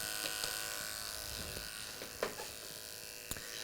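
Electric hair clippers fitted with a number 2 blade (a quarter inch) buzz steadily during a short skin-fade haircut, a continuous close hum with a few small clicks and bumps as the blade moves through hair.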